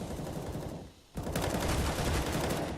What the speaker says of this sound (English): Pesadella unloads his M4